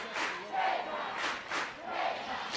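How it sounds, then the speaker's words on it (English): A softball crowd at an NCAA game chants in rhythmic swells, three loud pulses of massed voices rising and falling across the stands. "The crowd starting the K-time chant."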